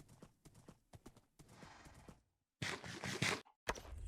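Gray horses in the Minecraft video game, heard as a rapid clip-clop of hooves in short bursts with brief silent gaps, then louder snorting and rustling game sounds near the end.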